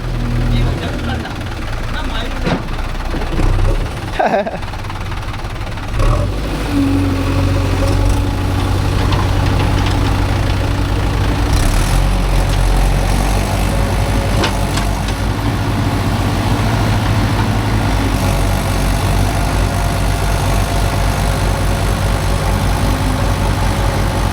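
A JCB 3DX backhoe loader's diesel engine idles with a steady, loud rumble at a soil-loading site, joined by a few clanks early on while people talk over it.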